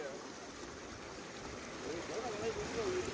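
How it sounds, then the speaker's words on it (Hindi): Floodwater surges under the Aipira–Vedia culvert bridge as a steady, faint rushing wash of a swollen river, with a voice faintly audible over it. "ये आईपीरा और वेड़िया का पुलिया है और पानी उफान पर है"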